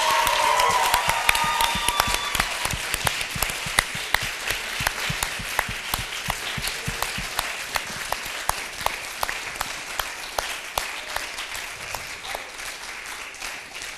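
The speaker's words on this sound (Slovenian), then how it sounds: "zato prosim en velik aplavz za vse te, ki so pomagali" The crowd at the closing of the Student Cuts student film festival in Ljutomer gives sustained applause, with sharp individual claps standing out in a continuous wash that lasts throughout.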